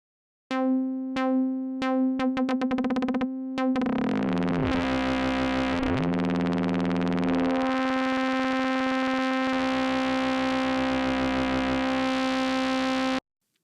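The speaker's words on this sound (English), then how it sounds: "I'll let you hear a couple examples back in Strobe using an envelope applied to filter cutoff." A synthesizer in Strobe plays a tonal sustained note with an envelope sweeping the filter cutoff, opening from rapid repeated plucky bursts into a bright, buzzy, evolving drone that holds steady, then cuts off abruptly.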